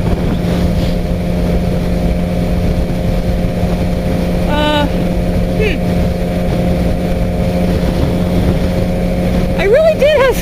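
A Suzuki Gixxer motorcycle engine drones steadily while riding, a loud continuous hum with wind rush throughout and brief tonal squeaks near the middle and end.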